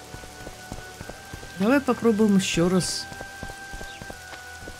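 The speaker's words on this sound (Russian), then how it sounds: "пошел дождь" Steady rain patters on a surface in the video game The Witcher 2, with sharp drip ticks throughout; someone speaks briefly over it in the middle.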